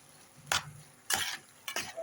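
Fried tomatoes and peppers being stirred together in a pan for Egyptian-style chicken liver, three short scraping stirs close by over a faint background, no talking.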